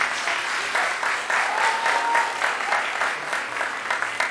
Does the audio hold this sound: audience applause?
yes